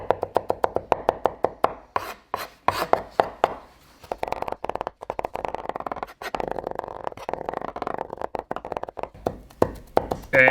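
Garlic cloves are peeled by hand, with rapid dry crackling, tapping and rubbing of papery skins in close bursts and short pauses, and no talking.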